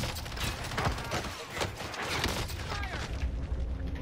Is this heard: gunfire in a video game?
yes